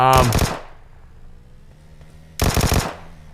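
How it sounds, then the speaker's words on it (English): Two rapid bursts from a Vector SMG in the mobile shooter PUBG Mobile, loud and close, separated by a couple of seconds of quieter ringing tail. "Burst fire with the Vector at range."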